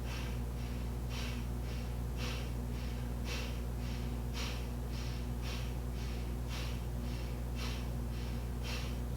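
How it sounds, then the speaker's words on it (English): Slow Breath of Fire in Kundalini yoga: a steady series of sharp nasal exhales, roughly one per second, close and clear over a constant low room hum. "Breath of Fire can even be a little bit faster than that, or it can be a little bit slower."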